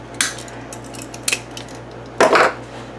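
Heavy duty paper punch used for crafting an 8x8 mini album, producing three sharp, short clacks at irregular spacing, the last one loudest and a little longer, with no voices.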